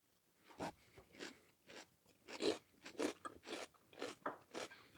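Raw purple onion is bitten and chewed, about nine sharp crisp crunches in an uneven rhythm, close and alone with no talking.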